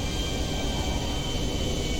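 A video-game airplane engine in GTA 5 drones as a steady, broadband roar, continuous and even, with no voices.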